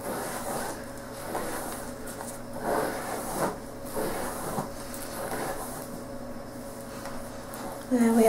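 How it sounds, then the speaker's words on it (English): A Salon Selections paddle brush is pulled through hair in a few soft, rustling strokes at close range, set against a low steady background hum. "So I'm just going to brush through my hair."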